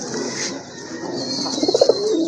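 Fancy pigeons coo in a short run of soft, rhythmic pulses near the end, close by over a low room murmur.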